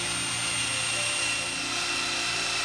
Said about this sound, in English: I'm going to go ahead and polish all the rest of these machine surfaces